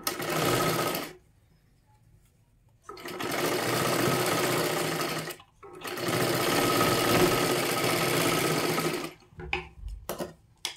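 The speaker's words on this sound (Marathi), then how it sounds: "आणि शिलाई करून घ्यायची आहे" A sewing machine stitches a katori blouse in fast, steady runs of whirring needle action, three bursts separated by quiet pauses, close and clear, ending in a few short taps.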